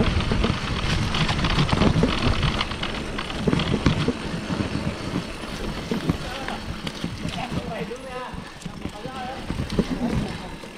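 Rain falling during a boat trip at Aquilla, a steady dense patter mixed with engine and water noise, with people talking over it throughout.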